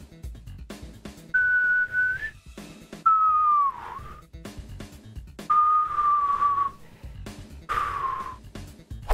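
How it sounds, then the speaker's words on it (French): Someone who cannot really whistle tries it, giving four shaky, breathy tones that waver and slide, each lasting about a second, separated by pauses, sharp breaths and small clicks, close to the microphone. "en train de m'entraîner à siffler, parce qu'en fait, je sais pas siffler"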